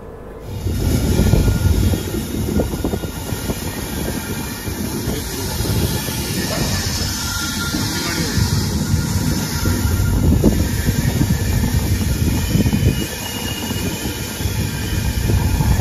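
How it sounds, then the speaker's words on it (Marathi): A passing LHB passenger train hauled by a WAP-7 electric locomotive rumbles by on a single line, with a loud, sustained roar of wheels and carriages, a high hiss and squealing wheels throughout. "समोरून एक ट्रेन चालली, LHB ट्रेन आहे, वॅप 7 लोकोमोटिव्ह"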